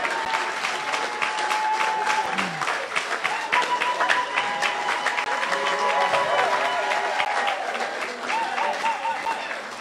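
A church congregation at a Sunday service applauds steadily, a dense wash of many hands clapping throughout, with voices and cheering mixed in beneath.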